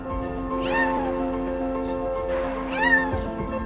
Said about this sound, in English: the man heard the cry of the little kitten